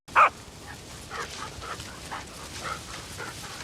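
A dog barks once in the war film Sisu, a short, sharp bark near the start followed by softer panting and whimpering sounds under low background noise.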